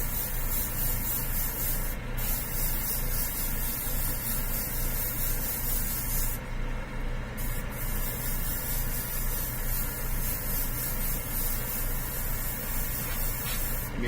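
An airbrush mists paint onto a Batman figure prototype in a continuous, close, even spray hiss with a steady compressor hum underneath, briefly interrupted by a couple of short breaks in the airflow.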